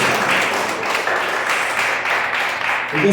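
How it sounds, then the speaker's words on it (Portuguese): A church congregation applauds at a worship service, a dense, steady wash of clapping from many hands that fills the room loudly and without a break. "Aplaudam ao Senhor."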